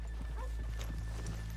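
Rhythmic clip-clop of horse hooves trotting steadily in Red Dead Redemption 2, close and clear, over a constant low background hum.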